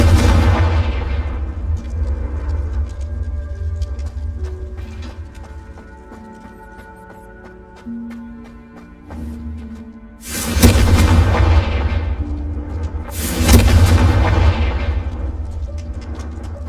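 Confringo explosion spell in the Hogwarts Legacy video game: two loud, booming blasts land near the end, each with a long rumbling tail, following a quieter stretch of game music and ambience.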